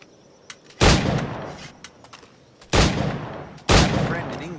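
Flintlock firearms go off in Assassin's Creed IV Black Flag, three loud, close gunshot blasts with sharp onsets and trailing decays, spaced unevenly over a few seconds with faint clicks in between.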